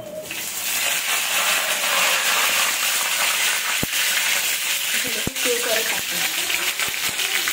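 Curry leaves sizzle in hot oil with mustard and cumin seeds during tempering, a steady close broadband hiss with a few sharp crackles and pops near the end, with a voice talking over it.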